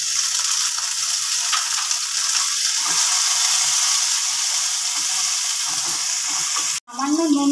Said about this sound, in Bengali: কাঁচা লঙ্কাটা তেলে ভাজা হলে দিয়ে দিচ্ছি আমি টমেটো